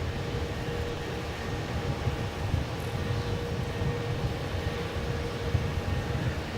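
Singapore Airlines Airbus A350-900 jet rolling down the runway on takeoff at Melbourne Airport, a steady, distant broadband roar with low rumble holding constant throughout.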